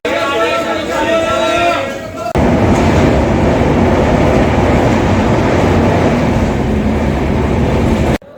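The Paschim Express passenger train runs on rails around Ratlam station, a loud continuous rumble and rattle close by after a brief quieter stretch with voices, with chatter mixed in.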